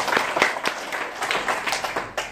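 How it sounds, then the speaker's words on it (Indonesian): A church congregation at a Family Blessing service in Jakarta, Kelapa Gading, breaks into scattered hand clapping that fills the hall, dense and uneven, slowly thinning out toward the end. "Tepuk tangan dulu bagi Yesus."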